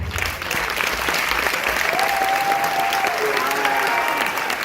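Audience applause at a hypnotist stage show, a dense, steady wash of many hands clapping throughout, with a few cheers or whistles rising above it midway.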